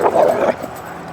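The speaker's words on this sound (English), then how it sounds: "You can hear my dogs in the background playing." Two sister dogs playing rough with each other in the background, giving a short close whimpering yip and bark-like vocal burst that fades out within a second.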